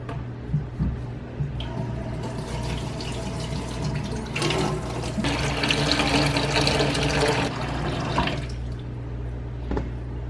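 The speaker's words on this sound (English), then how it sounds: "We're going to put hot water on one side of the sink, but only like an inch of hot water." Hot water runs steadily from a tap into one side of a kitchen sink, filling it about an inch deep, a continuous close splashing stream that swells louder midway before easing, with no talking.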